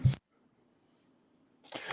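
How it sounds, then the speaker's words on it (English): A single sharp sneeze bursts out at the start, followed by near silence and then a second short burst of breathy noise at the end. "I'm having a sneezing fit."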